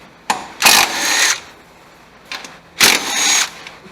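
A tool ratchets out the 14 mm valve cover bolts on a 2004 Toyota Solara 3.3L, giving two loud, close bursts of rapid whirring clatter separated by a quieter pause.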